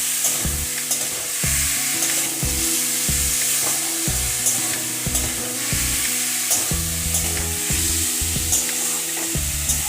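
Spice masala and sugar get stirred in a pan with a spoon, a steady bright sizzle broken by regular, rhythmic scraping knocks against the pan, close and loud with no talking.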